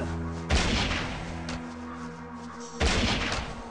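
Two shotgun blasts in Westland Survival, separated by about two seconds, each a sharp loud boom with a fading tail over a steady low game background.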